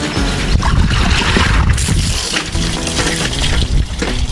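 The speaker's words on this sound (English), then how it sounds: "So we've just soaked this hay net for Frank, now we're going to put it on the ramp to drain." Water pouring and splashing as a soaked hay net for a pony drains on a ramp, a dense continuous wet trickling and spattering close by with no talk.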